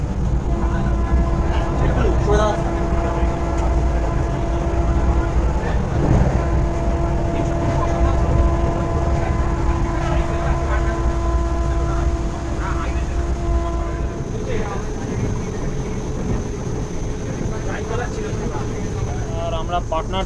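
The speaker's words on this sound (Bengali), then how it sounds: "আর আমরা পাটনা ঢোকার মুখে এখন অলরেডি স্টেশন ঢুকছে, সেটা হলো পাটনা সাহেব।" A Vande Bharat Express running into Patna Sahib station on its inaugural run, heard from inside as a steady low rumble with tonal hum and faint rattles, and a voice talking over it for much of the time.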